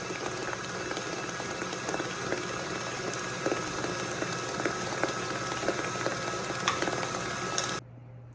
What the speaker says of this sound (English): I'm going to let that whip up for a bit